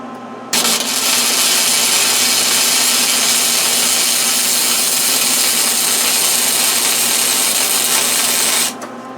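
MIG welding a deer feeder hanger: a steady, loud, hissing crackle running unbroken for about eight seconds, close up, with no talking.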